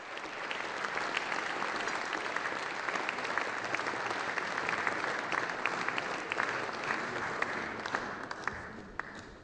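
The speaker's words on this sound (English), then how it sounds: "Please, big applause for them." Audience applause at a CFA Society forecasting dinner for the winning team, a dense, steady ovation of many hands clapping that continues without a break from start to finish.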